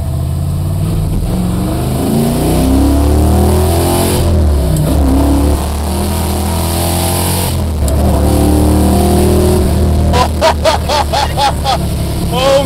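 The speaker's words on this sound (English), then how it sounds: "We're just gonna roll the throttle." A 1963 Ford Galaxie with a 427 FE engine and open carburetors revs hard and accelerates, its loud roaring engine note climbing through rising gear pulls, with people exclaiming over it.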